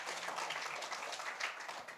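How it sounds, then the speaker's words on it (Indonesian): Dense, steady applause from a church congregation, many hands clapping together in a continuous broadband wash with no voices over it. "Tepuk tangan untuk Tuhan Yesus."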